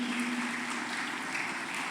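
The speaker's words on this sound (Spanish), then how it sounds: "Denle un fuerte aplauso a Jesucristo." Steady congregation applause at a church service fills the clip, a dense even patter of many hands clapping at moderate volume without pause.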